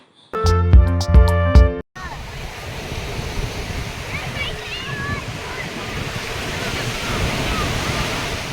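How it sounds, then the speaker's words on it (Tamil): Surf at Cherai Beach in Kochi, Kerala rushes in a steady, broad wash, arriving after a brief burst of loud music, with faint voices and bird-like calls drifting over the sea noise. "வந்துவிட்டோம் பீச் என்ட்ரான உடனே இந்த மாதிரி தான் இருக்குது"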